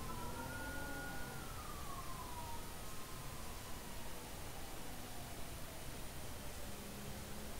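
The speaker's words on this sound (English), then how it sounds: "You not hear the siren?" A faint, distant emergency siren wails and slowly falls in pitch beneath a heavy wash of steady background noise, heard during a fire department ride-along, with no talk over it.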